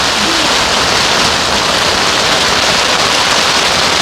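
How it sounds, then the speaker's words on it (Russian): Steady, loud roar of heavy rain pouring down in a storm by a riverbank, a dense continuous hiss close by with no pauses. "Сейчас стоим мокрые полностью и от дождя, и от урагана."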